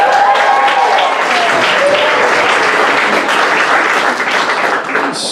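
Audience clapping at a high school music department awards ceremony, a loud sustained wash of applause that fades slightly toward the end, with a few faint voices underneath.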